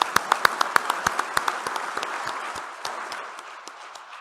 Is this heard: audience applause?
yes